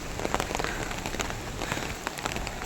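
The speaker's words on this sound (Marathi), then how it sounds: "पाऊस पडतोय खूप" Heavy rain falls steadily on a hard surface near a small waterfall on the way to a hill temple, a close, dense patter with sharp individual drop splats scattered through the hiss.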